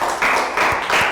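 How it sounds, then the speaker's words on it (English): Classroom applause for a pupil, three short bursts of clapping from a group of children, moderately loud and close. "Round of applause for Bangpon."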